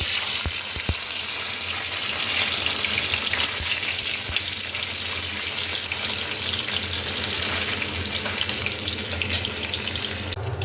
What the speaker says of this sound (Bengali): চলো পনিরগুলো ভেজে নিই একটু হালকা করে